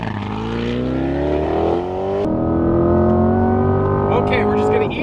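A Chevrolet Corvette C8 accelerates hard, its close, loud engine note climbing steadily in pitch, briefly dropping with a gear change, then rising again, while a person talks over it.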